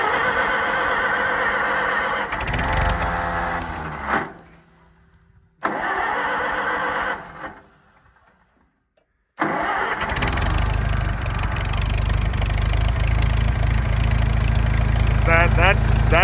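An old tractor engine cranking with a squealing starter, stalling into silence, cranking again, then catching and settling into a loud, steady close idle; a voice speaks partway through.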